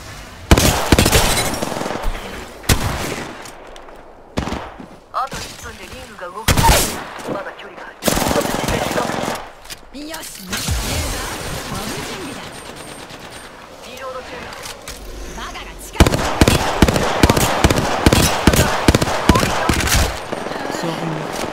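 Rapid automatic gunfire and single shots in Apex Legends, loud and close, coming in repeated bursts with short pauses, and a dense volley toward the end; a voice speaks briefly among the shots.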